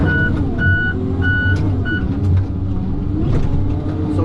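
Tigercat 610E skidder working on a logging landing, its engine rumbling steadily while a reversing alarm beeps in a regular repeating pattern nearby.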